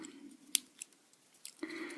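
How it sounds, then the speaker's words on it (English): Scissors snipping through cardboard while making a homemade dinosaur model, a few sharp isolated cuts spaced irregularly over two seconds, faint and close, with a soft low hum underneath. "take your scissors and just cut in"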